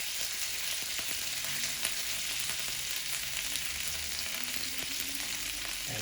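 Salmon sizzles steadily in a frying pan, a continuous close crackle and hiss with no talking.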